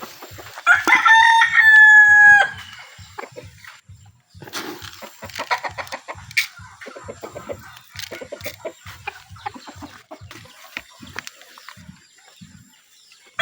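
A rooster crows loudly once nearby, followed by softer clucking and scattered rustling with a faint rhythmic tapping in the background.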